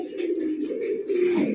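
Red Checker racer pigeon cooing close up, a soft continuous low coo with a brief rise near the end, alone without talk.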